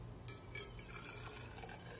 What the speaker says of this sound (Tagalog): So lagyan lang natin siya ng hot water.